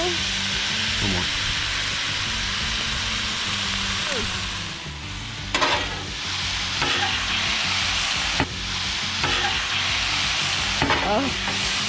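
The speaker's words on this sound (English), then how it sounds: "We're gonna get it down on the griddle, and then we're gonna add our sour cream, cream cheese, and buffalo sauce" Shredded buffalo chicken with sour cream, cream cheese, buffalo sauce and garlic sizzles steadily on a Blackstone griddle, a continuous close hiss broken by occasional scrapes and clacks of a spatula stirring, with faint voices under it.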